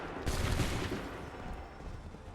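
Musket volley fire on a battlefield in Assassin's Creed 3 Remastered: a loud, dense crackling burst of many shots at once, then a rumbling tail fading over a couple of seconds, with no talk.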